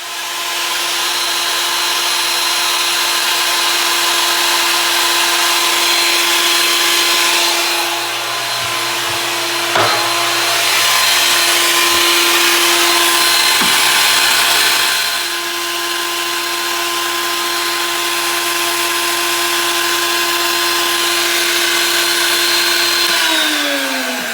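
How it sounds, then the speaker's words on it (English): A handheld wood router spins a bit into scrap synthetic walnut burl, a steady high whine with a faint hum beneath, dipping in pitch as the cut loads it briefly, then running on evenly before winding down at the end. "I'm gonna try that on my router bit, the scrap, to make sure it doesn't like tear it"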